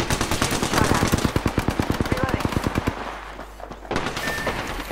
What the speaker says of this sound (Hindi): दोनों इकट्ठे फायर कर रहे हैं